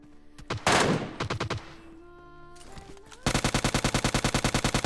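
Video game gunfire: a few rapid bursts early on, a lull with mechanical clatter, then a loud sustained run of rapid automatic shots to the end.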